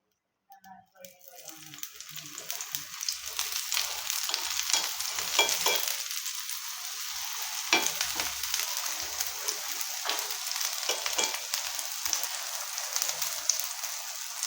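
Stuffed Kathiyawadi rotlo flatbread roasts on a griddle, giving a steady close sizzle with scattered pops and crackles after a brief quiet start.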